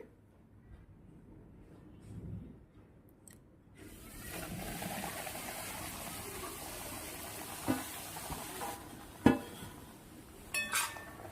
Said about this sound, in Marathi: हे आपल्याला बारीक गॅसवर कलर बदलेपर्यंत आपल्याला तुपामध्ये भाजून घ्यायचं आहे